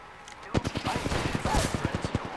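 Rapid automatic gunfire in a video game rattles off in a fast, evenly spaced string of sharp shots, loud and close, with brief voice callouts mixed in.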